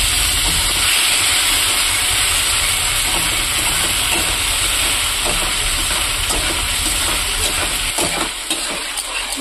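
Onion paste fries in a pan, a loud close hiss and sizzle that holds steady, with faint stirring scrapes and a slight easing toward the end.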